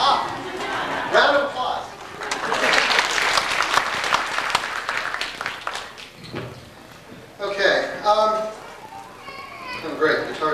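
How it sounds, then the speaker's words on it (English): Applause from a church stake road show audience in Houston, dense clapping and cheering that swells, breaks off briefly, then returns in short bursts mixed with children's voices and talking. "Round of applause."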